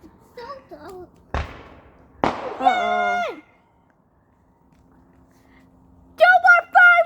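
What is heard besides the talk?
fireworks exploding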